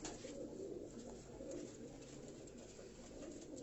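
Pigeons of a prized show breed coo softly in a low, steady murmur that fills the whole stretch, quiet and slightly distant with no voices over it.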